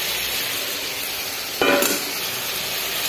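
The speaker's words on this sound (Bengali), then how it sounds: "এখানে ধনে পাতা, কাঁচা লঙ্কা আর শুটকি মাছ, এটাকে এখন ছেড়ে দেব।" Dried fish, coriander leaves and green chili hit a hot pan with a sudden sizzling burst lasting a fraction of a second, then a quieter steady frying hiss continues, close and alone.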